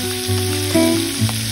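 Bhola fish rubbed with salt and turmeric sizzle and fry in hot mustard oil in a pan, a loud close steady crackle with small pops and no voices.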